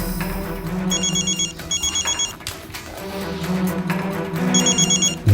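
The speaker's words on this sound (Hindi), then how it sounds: "मम्मी का फोन।" A telephone rings in repeated bursts of electronic trilling, close and clear over a low background hum with no speech.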